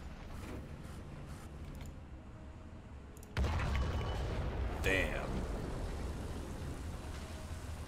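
A German E-100 heavy tank fires its cannon in War Thunder, a sudden loud blast partway through that leaves a sustained rumbling roar, followed by a second metallic crack; engine drone fills the quieter start.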